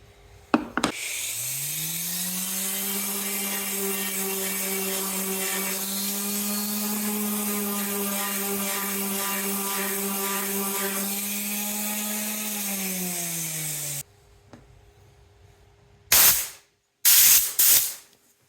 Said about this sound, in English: we're just going to sand this real quick and take some of that off